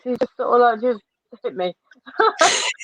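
A single sharp sneeze bursts out near the end, after stretches of casual talk. It is close and loud, breaking in right after a short pause in the speech.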